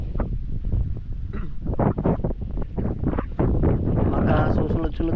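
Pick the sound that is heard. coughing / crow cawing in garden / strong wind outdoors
strong wind outdoors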